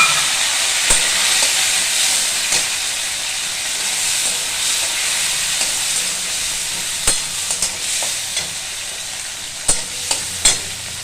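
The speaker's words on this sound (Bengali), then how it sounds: "এরপর টমেটো কুচিগুলো দিয়ে দিলাম।" Loud, continuous sizzling of chopped tomatoes in a hot pan, with occasional sharp clicks and knocks of stirring scattered through the hiss.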